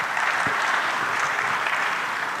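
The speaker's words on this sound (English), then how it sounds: "Please, a round of applause to him." Applause from an audience at a shareholders' general meeting for Africa50 in Tanzania, a steady dense wash of many hands clapping throughout, fairly loud and continuous.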